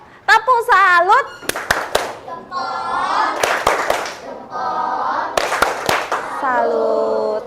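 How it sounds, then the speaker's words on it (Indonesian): Classroom of primary school children doing a rhythmic salute clap together, sharp unison hand claps in quick bursts, with children and a teacher chanting and speaking between the claps. "Kita beri tepuk salut dulu yuk. Tepuk salut."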